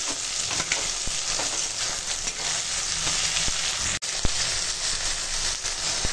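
Chopped tomato tipped into onions already fried in a hot pan, a steady loud sizzle with a few stirring scrapes and clicks throughout, no voices over it.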